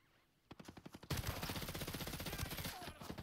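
Gunfire from the video game Ghost Recon Breakpoint: a few separate shots, then a loud, sustained automatic burst of rapid rounds.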